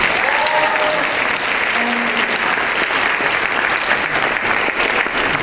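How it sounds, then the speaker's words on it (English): Sustained, loud applause from a school audience at an MLK assembly, steady dense clapping filling the whole stretch with faint crowd noise beneath. "can we give another round of applause for that video"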